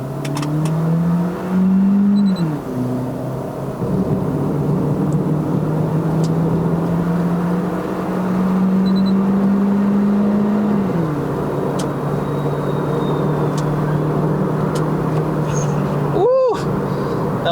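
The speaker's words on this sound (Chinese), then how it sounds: "Turbo blow off 的声音是不是？" Proton Saga with a small bolt-on turbo and manual gearbox accelerating hard, its engine droning loudly from inside the cabin and rising and dropping with the shifts, then a sharp, brief whoosh of turbo blow-off near the end.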